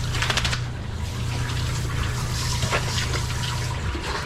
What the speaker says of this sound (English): I also have to rinse all of that soap out.